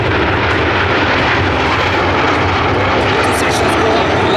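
Frecce Tricolori aerobatic jets crossing at the Cold Lake Airshow 2024, a loud, continuous, broad engine roar that fills the whole stretch without letting up.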